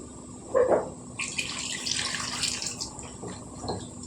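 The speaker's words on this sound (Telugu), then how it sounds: "ఇప్పుడు ఇందులో మనం ఈ కూర ఉడకడానికి సరిపడా నీళ్ళు వేసుకుందాం" Water poured into a pan of cooking small fish and tamarind leaf curry, a steady splashing rush that starts after a short knock and runs on, close and fairly loud.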